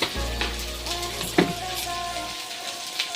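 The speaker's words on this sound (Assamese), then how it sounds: "পিঁয়াজ দি আকৌ কিছুপৰ লৰাই ল'ম" Sliced onions fry and get stirred in a pan with a steady close sizzle, a few scraping knocks from the stirring, and a sudden drop to quiet after about two seconds.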